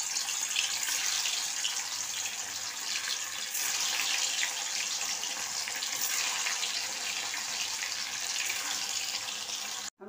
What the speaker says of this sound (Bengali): এবার কড়াতে সাদা তেল দিয়েছি, গরম হয়ে গেছে। এবার এগুলোকে আমি ভেজে নেব,